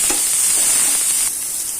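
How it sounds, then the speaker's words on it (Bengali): Chopped onion hits hot oil with browned garlic, a bright, close sizzle with scraping stirs that eases slightly after a second. "পেঁয়াজটা আমি একটু হালকা ভাজা দিয়ে নেব"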